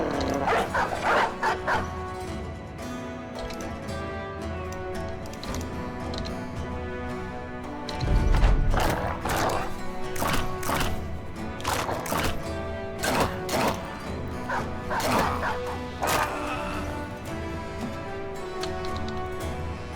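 Minecraft dogs bark and yip in quick repeated bursts through a manhunt game, layered over steady background game sound and music, lively and close throughout.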